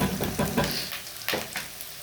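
Onions turning golden fry in a pan, close and moderately quiet, with soft sizzling and a few stirring scrapes.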